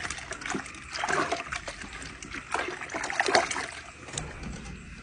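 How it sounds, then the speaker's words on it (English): Water splashes and trickles in uneven bursts as it is poured into a container, close by, with quieter gaps between pours. "we're going to add Gallagher's water to it"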